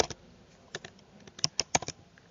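Keys clack on a computer keyboard in irregular bursts of quick taps, close and fairly quiet, with no voices over them.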